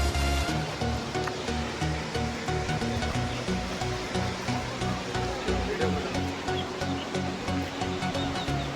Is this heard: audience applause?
no